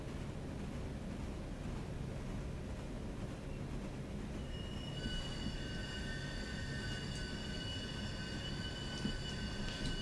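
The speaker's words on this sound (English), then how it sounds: "Train is not happy." A railroad train rolls along the rails with a low steady rumble, joined partway through by high sustained wheel squeal that holds to the end, moderately close with no talk.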